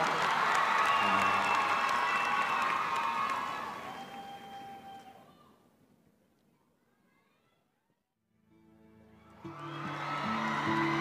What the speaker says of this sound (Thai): ขอเสียงปรบมือดังให้นักแสดงและผู้กำกับจากอินิกมา